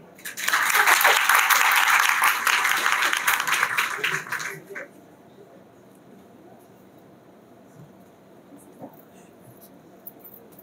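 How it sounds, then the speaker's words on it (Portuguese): Symposium audience in an auditorium breaks into loud applause for about four seconds, then the clapping stops abruptly, leaving quiet room tone with a few faint rustles and a soft knock. "Salve de palmas."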